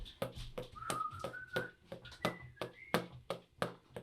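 A person whistles the bouncy Harlem Globetrotters tune, a rising run of bright, clipped notes over a steady rhythmic tapping beat, fairly quiet and close.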